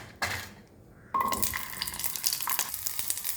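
Onions and chillies sautéing in coconut oil in a pan, a steady close sizzle that bursts in after a brief quiet and keeps crackling with small scraping stirs.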